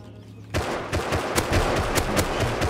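Rifle gunfire in the survival game Rust: a rapid series of sharp, loud shots in an irregular burst, starting abruptly after a brief quiet moment and continuing close up for a couple of seconds.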